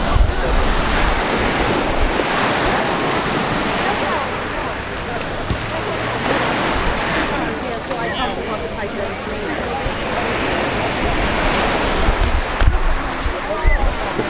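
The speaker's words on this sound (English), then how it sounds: "It's a nice beach, though." Ocean waves break and wash continuously onto a beach as the sun sets, a steady close roar of surf with wind buffeting the microphone throughout.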